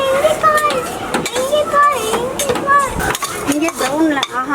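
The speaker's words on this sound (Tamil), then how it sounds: "மறுபடியும் இதுலேயே கொஞ்சம் நெய் ஊற்றி இந்த சேமியாவை வறுத்துக்கிறோம்." Vermicelli frying in ghee in a pan for milk payasam, with a spoon scraping and clinking against the metal in steady stirring strokes under a soft sizzle, while a voice talks over it nearby.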